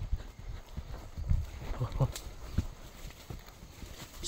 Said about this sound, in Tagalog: Bilis na ng takbo ng kabayo.